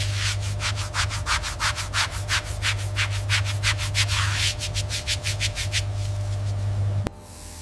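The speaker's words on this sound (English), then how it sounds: "Controlled tumbling smooths the surface, eliminating invisible abrasions." Olympic medal surfaces for the Milano Cortina 2026 Games being tumbled and polished by machine: a fast, steady run of rasping, scrubbing pulses over a low mechanical hum, cutting off abruptly near the end.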